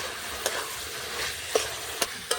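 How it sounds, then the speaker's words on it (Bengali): Kashmiri chilli, cumin and coriander powders being sautéed for a water chestnut curry, with a steady soft sizzle and four sharp spoon scrapes against the pan at uneven intervals; no one speaks. "দিয়ে ভালো করে কষিয়ে নেব"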